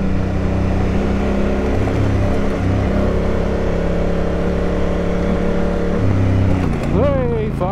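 A Honda Africa Twin adventure motorcycle runs hard under steady throttle on a dusty dirt road in the mountains of the NSW south coast, its engine droning loud and continuous with wind rush. The pitch swings briefly near the end.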